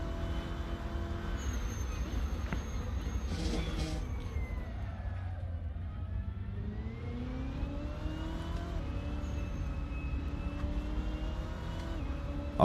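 Simulated race car in Assetto Corsa droning steadily, the engine note dipping and then climbing again as the car slows and accelerates, loud and close throughout with no voices.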